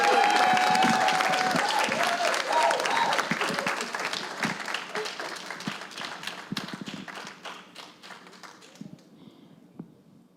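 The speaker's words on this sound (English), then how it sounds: "Y'all clap it up a little bit now." Audience applause at an awards event, loud at first under a voice over the PA, then thinning into scattered individual claps as it fades toward the end.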